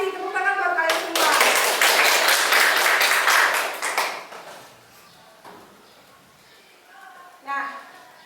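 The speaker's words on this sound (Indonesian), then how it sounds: "Tepuk tangan buat kalian semua." Students in a classroom applaud in a dense, loud burst of many hands clapping that lasts about four seconds before dying away, followed by a quieter stretch with voices talking.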